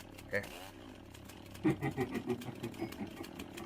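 A rough engine sputters to life with a burst of rapid, throbbing revs, loud and close for a couple of seconds, in a Roblox horror maze game.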